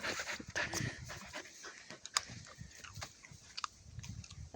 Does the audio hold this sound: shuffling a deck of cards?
no